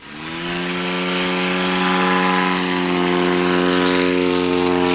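A STOL propeller airplane taking off at a national STOL competition, its engine droning loud and steady as the pitch holds and slowly builds, close and continuous with no talk.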